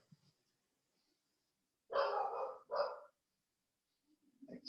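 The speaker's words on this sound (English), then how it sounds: "I'll let the dog go now." A dog gives two short, loud barks close by after a quiet stretch, with a faint whimper-like sound starting at the end.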